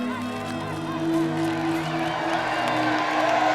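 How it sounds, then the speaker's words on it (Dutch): A roadside crowd cheers and applauds the two leading skaters in the 1986 Elfstedentocht skating race in Friesland, a steady, fairly loud wash of clapping and voices with shrill whistle-like tones running through it, swelling slightly toward the end. "Groot applaus voor de twee koplopers, nummer 110 en 313"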